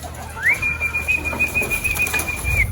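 Pigeons fly in with a brief rush of flapping wings, accompanied by a sustained thin whistle, close and moderately loud against quiet outdoor background.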